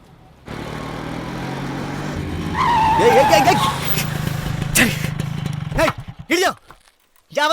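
A car's engine revs up close and its tires squeal through a near-collision skid in an audio drama, followed by sharp impact-like hits and brief voices.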